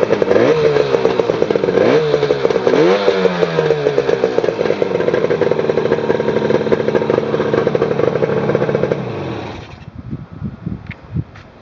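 A vintage 1967 Yamaha two-stroke motorcycle engine runs loud and close with a buzzing, uneven idle and a few throttle blips early on, then cuts off near the end, leaving a brief quiet tail.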